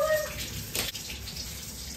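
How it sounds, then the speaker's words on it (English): Tap water runs steadily while pink hair dye is rinsed out under cold water, a continuous hiss and splash with a brief louder surge of water partway through and no talk. "I'm rinsing it out in the coldest possible water."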